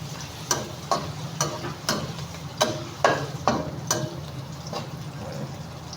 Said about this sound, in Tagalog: Ayan guys, igisa na natin.